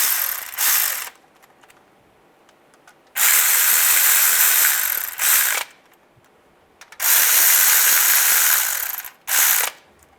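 Ratchet clicking as timing chain bolts are snugged on a 2007-2013 Chevy Silverado engine, in four bursts of rapid close clicks with quiet gaps between them.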